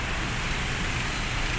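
Steady roadway traffic rumble on a rainy street near a Manila mall, a continuous broadband wash of car and bus engines with no distinct passes, heard at moderate distance.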